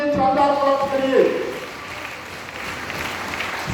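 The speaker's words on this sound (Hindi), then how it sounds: "जोरदार तालियां दीजिए शानदार प्रोडक्ट के लिए" Audience clapping at a leadership training session, a crowd's applause that swells early and then thins to a softer patter, with a voice heard over the first part.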